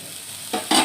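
Eggplant, onion, garlic, bay leaf, dried chilli and five-spice seeds are sautéed in a pan: a quiet sizzle, then two short bursts of louder hissing as the pan is stirred.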